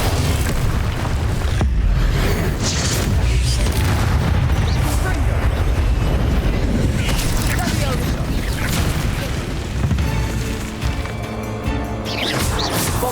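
Bombarda and Confringo spells explode in Hogwarts Legacy combat, a loud, continuous barrage of booms, crashes and bursts with shouted voices over the din.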